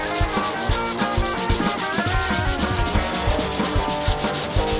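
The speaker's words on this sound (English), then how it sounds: "So in the end I gave up and reverted to hand sanding like usual." Hand sanding the wood body of a Les Paul style guitar, a steady run of quick rasping sandpaper strokes, close and loud with no talking.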